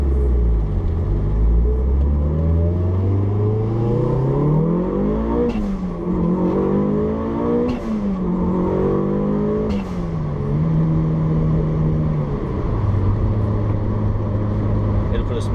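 A 441-horsepower Mitsubishi Lancer Evo 9 pulls hard from inside the cabin, its engine note climbing loud and rough through several gear changes with brief dips before settling into a steady drone, a deep rumble throughout.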